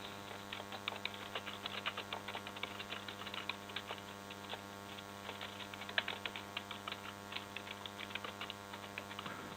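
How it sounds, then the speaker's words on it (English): Steady, rapid clicking of keys on a computer keyboard, close and fairly quiet over a low background hum, with no talking. "And now as I start typing"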